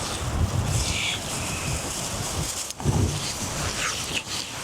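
Strong, gusty wind batters the microphone outdoors on a bog and forest hike, a loud continuous roar with rustling surges throughout and no talking.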